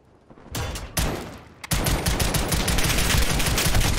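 Sustained gunfire in the Call of Duty: Modern Warfare team deathmatch beta: a few separate loud shots, then continuous rapid automatic fire, close and dense, with no talking.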